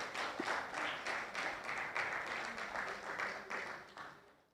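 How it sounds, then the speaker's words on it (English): Audience members at the Stanford SEED Network business conference applaud, a soft, fairly distant ripple of clapping with a loose rhythmic pulse that holds steady and then fades out at the end. "let's give them a round of applause"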